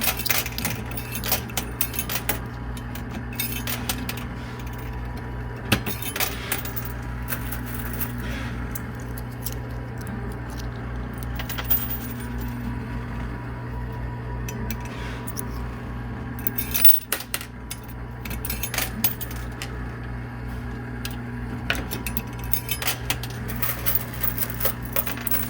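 Coins clatter and drop inside an arcade coin pusher machine, with frequent small metallic clinks and rattles over a steady machine hum. The loud, busy sound runs continuously with no speech.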